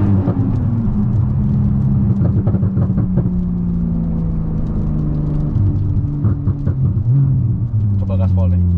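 Manual Porsche Carrera 4 GTS with a Stage 2 tune accelerating, a steady deep engine rumble heard from inside the cabin with gear changes shifting the pitch, under continuous conversation.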